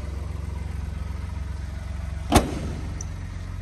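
A 2015 Ford Expedition engine runs with a steady, throbbing low rumble at close range, broken by a single sharp bang or clunk partway through, then settles back to the even drone.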